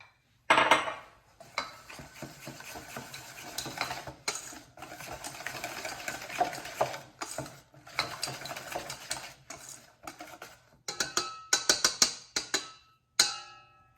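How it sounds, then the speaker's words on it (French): Pancake batter being mixed after butter is added, with a utensil scraping and clicking rapidly against a bowl in close, busy bursts separated by brief pauses, ending in a few sharper knocks. "on va pouvoir ajouter le beurre dedans. Remélanger le tout."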